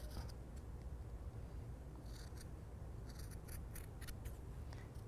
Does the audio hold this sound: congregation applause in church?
no